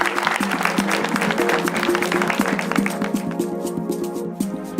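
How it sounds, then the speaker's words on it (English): Audience at a ceremony at the port of Mombasa applauding President Kenyatta, a dense, loud wash of sustained clapping that tapers slightly toward the end. "Let's clap for His Excellency."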